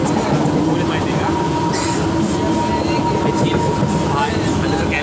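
A morning train runs with a steady, loud rumble of carriages throughout, a faint squeal line and occasional rattles over it, and a person talking intermittently above the noise.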